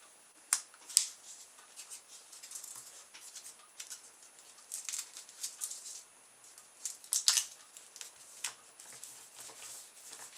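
Paper being rolled and wrapped around a pencil to make small tubes, a close series of soft crinkles, rustles and sharp crisp ticks, irregular and quiet, with no speech.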